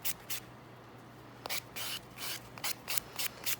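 Short scratchy strokes of a sanding band buffing an acrylic nail, quiet rhythmic bursts of abrasive rasping with small gaps between each pass.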